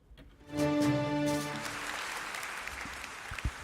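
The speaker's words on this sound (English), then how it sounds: "You guys deserve another round of applause." Audience applause for two debaters at a playoff debate, rising after a brief sustained tone at the start, then a continuous moderate clapping that carries on evenly to the end.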